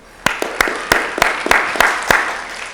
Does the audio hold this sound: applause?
yes